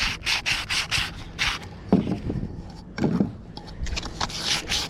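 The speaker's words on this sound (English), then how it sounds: "pre-sand the inner part of the PVC tube or anywhere the glue is going to touch" Sandpaper rubbing the inside of a PVC tube, part of a razor clam gun rebuild: close, steady back-and-forth scratchy strokes in quick rhythmic bursts, with a few heavier, lower scrubbing passes in the middle.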